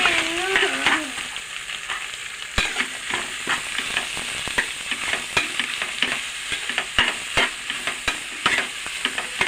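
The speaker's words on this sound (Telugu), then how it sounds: "ఇదిగోండి ఉల్లిపాయలు వేగుతున్నాయి." Sliced onions and curry leaves fry in oil in a pressure cooker pot, a continuous crackling sizzle broken by frequent sharp scraping clicks as the spoon stirs, close up and without speech.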